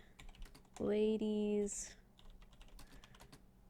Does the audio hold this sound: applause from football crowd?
no